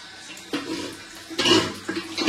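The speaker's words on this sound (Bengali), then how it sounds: "কলে পাম্প করছি, এখন এই যে মোটর চলেছে" Water rushes in from a bathroom tap fed by an electric pump motor, coming in uneven splashing gushes with short pauses, close and fairly loud.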